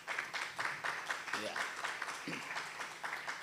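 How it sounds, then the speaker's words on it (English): Applause at a sustainable-development finance conference panel, a steady run of clapping from a seated audience lasting a few seconds, with a brief spoken word over it. "Let's give him a round of applause."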